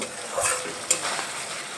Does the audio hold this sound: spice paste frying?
yes